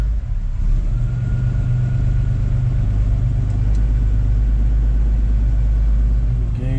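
A 1951 GMC Series 100 truck engine runs at a steady idle, a loud, low, continuous rumble with no revving and no voices.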